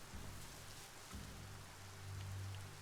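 Rain in the video game Biomutant falls as a soft, steady patter on surfaces with a low background rumble, faint and continuous, no voices over it.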